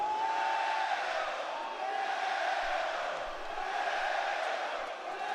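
WWE wrestling arena crowd giving a loud, sustained roar of disapproval for the whole stretch, dense and continuous with shouts rising within the mass of voices.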